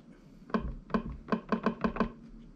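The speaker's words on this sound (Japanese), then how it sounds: "リムショット、" Seven sharp, dry rimshot clicks come from a Behringer RD-9 drum machine, the first few spaced apart and the rest arriving in a quicker, even run, close and clear.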